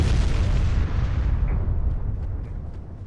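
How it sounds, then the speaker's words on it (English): A heavy shell strikes a warship's B turret in the naval battle game Ultimate Admiral Dreadnoughts, a loud deep explosive boom that rumbles and slowly decays over a few seconds, with faint clicks as it fades. "the Devon takes one hell of a hit to her B turret"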